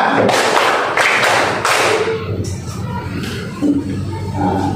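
A classroom of students claps a patterned rhythm together, a dense run of loud, fast claps and thumps early on that thins into scattered, quieter claps with some voices mixed in.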